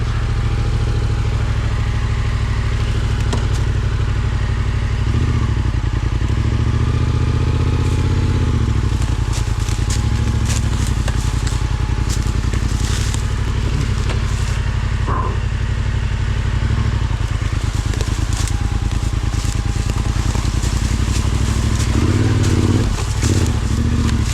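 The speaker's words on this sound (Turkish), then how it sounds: "Gaza basarsam debriyajı bırakırken motorda stop etmeyecek" An enduro adventure motorcycle engine runs loud and close throughout, its throttle blips and revs rising and falling over a steady mechanical clatter as the clutch is worked, with no talk.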